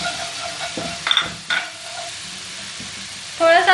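Steady sizzling of spices, including chili and chicken powder, frying in a pan for chickpea curry, with scraping and clinks of stirring throughout, and a brief voice at the end.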